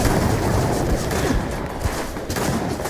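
The Kodama gun in the video game Starfield fires in a sustained, loud automatic burst, dense rapid shots running almost continuously with only brief dips, with no talk over them.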